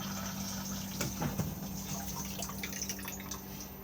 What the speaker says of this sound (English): push to flush on the top just here